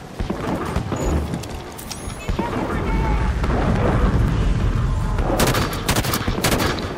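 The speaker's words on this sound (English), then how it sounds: "I see the Hydra launcher fire" A Hydra launcher firing in Halo 5: Guardians during an evacuation mission: a quick cluster of sharp popping shots near the end, over rumbling battle noise and scattered distant gunfire, with a voice faintly present.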